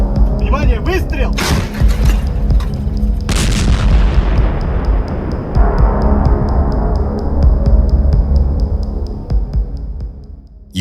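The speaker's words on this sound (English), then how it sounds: "Выстрел! Внимание, выстрел!" A weapon fires with a single heavy boom in the middle of a combat engagement against armored vehicles, followed by a long rumbling decay. Voices shout loudly over it.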